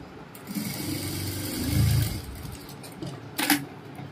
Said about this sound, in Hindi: अब इसको हम ऐसे सिलाई मार लेंगे बाजू के लिए